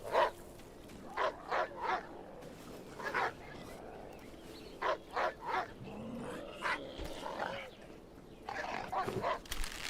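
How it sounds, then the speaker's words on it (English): A dog in the survival video game HumanitZ barks in short bursts of two or three, with pauses between, under a low game ambience and occasional rustling movement. "All of a sudden he was barking way different."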